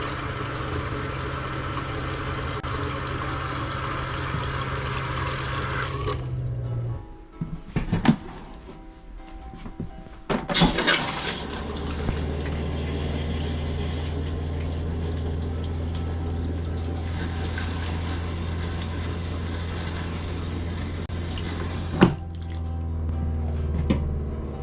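Water running through a camper's hot water line while de-winterizing, a steady flow with a low hum that drops out briefly, then sputters, gurgles and drips before the flow and hum resume steadily.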